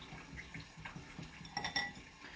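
A spoon stirs reserved green onions into a simple dumpling dipping sauce in a small dish, giving soft, uneven clinks and scrapes with a couple of brighter taps near the end, quiet and close.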